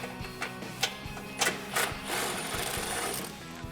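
Nuts are being taken off the front bumper mounts of a Jeep Wrangler JL during a Rugged Ridge Spartacus bumper install. Close, rapid mechanical rattling comes from a power tool, in short bursts and then one longer continuous run.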